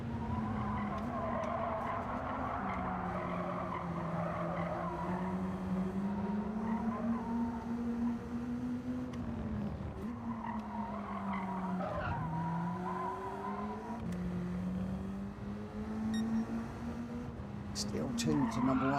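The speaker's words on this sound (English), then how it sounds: "Really sliding this thing through these corners, just trying to get the power down as quick as we can." A BAC Mono race car in Gran Turismo 7 sliding through corners, its engine droning and shifting pitch while the tires squeal and skid almost continuously, loud and close throughout.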